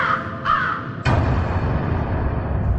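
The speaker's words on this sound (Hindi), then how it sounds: "दिन में कौवों का काव काव करना समझ में आता है।" Crow cawing at close range, two harsh caws followed by a sharp burst and lingering noisy rumble in a dramatized night scene.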